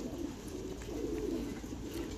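Thai pigeons on a pigeon farm coo softly and continuously, a low, murmuring chorus heard at a quiet level with no voices over it.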